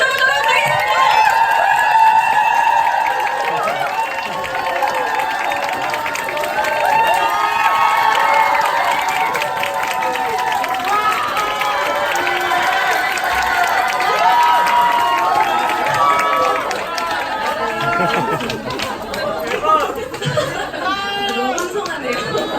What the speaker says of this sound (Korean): 방금 열렬히 환호로 소개받은 뉴스킨 사업자 허솔 인사드리겠습니다.